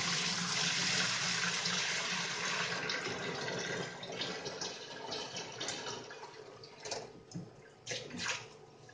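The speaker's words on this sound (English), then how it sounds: "I'm straight away going to be adding this water into the quarantine tank." Water pours steadily into a discus fish quarantine aquarium tank in a broad rushing stream, then thins into uneven splashes and gurgles near the end, with no talking.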